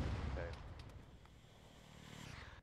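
Gunfire from a vehicle in the military video game Arma: low, muffled booms heavy at the start that fade into a quieter rumble with a few faint distant cracks.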